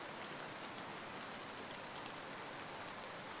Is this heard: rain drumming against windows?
yes